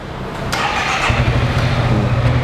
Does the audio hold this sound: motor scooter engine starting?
yes